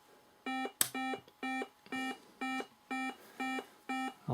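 Synthesized sequencer notes play at a doubled tempo of 120, two evenly spaced electronic tones per second, each a bright buzzy beep of equal length, repeating steadily and alone.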